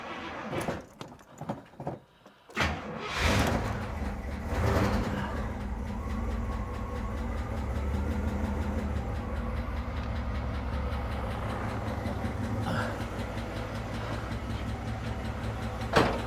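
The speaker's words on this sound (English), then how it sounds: "I should just be able to go start the car." A car engine cranks and catches with a Noco mini jump starter, a few clattering bursts giving way to a steady, low idle rumble that continues close by.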